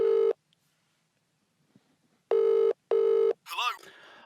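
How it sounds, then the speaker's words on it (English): A telephone rings on an outgoing call, giving three evenly spaced electronic ring bursts with pauses of silence between them, followed by a brief warbling sound as the line connects. "It's ringing."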